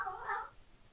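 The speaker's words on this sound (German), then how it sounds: "Der Kater flippt gerade irgendwie aus." A male cat on a farm lets out a single loud, drawn-out meow lasting about half a second, then the sound drops to near silence with faint background noise.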